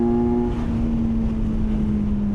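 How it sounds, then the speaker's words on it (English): A 2025 Kawasaki Versys 1100 SE LT motorcycle's engine drones steadily under heavy wind rush, its tone dropping as the quick shifter clicks through a crisp downshift. "Crisp, quick shift, downshift there."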